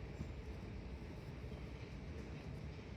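A Singapore metro train on the MRT lines carries a steady, loud low rumble and broadband hum throughout, continuous with no talk.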